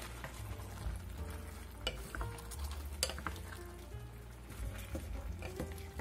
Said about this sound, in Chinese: 大滚后我们开盖给它翻一翻